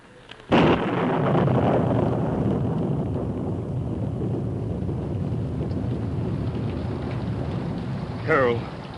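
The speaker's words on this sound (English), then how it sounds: "Rain, it's coming up faster, faster." Heavy rain roars in abruptly and keeps up a dense, steady wash of noise, with a brief voice near the end.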